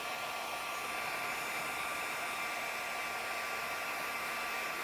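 A handheld heat embossing tool blows hot air onto paper in a steady, loud, unbroken broadband whoosh much like a hair dryer, running alone for the whole stretch with no talking.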